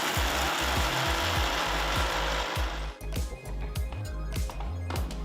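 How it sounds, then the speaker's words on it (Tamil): A mixer grinder jar whirring hard as it grinds roasted spices into powder, a steady loud motor drone with rhythmic pulsing and a few rattling bursts near the end. "ஆறுனதும் ஒரு மிக்சர் ஜாருக்கு மாத்தி பொடியா அரைச்சுக்கலாம்."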